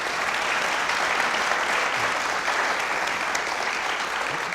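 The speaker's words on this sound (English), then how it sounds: "give them a round of applause" An audience at a criminal justice reform panel discussion claps steadily, a dense, sustained round of applause at even volume from start to finish.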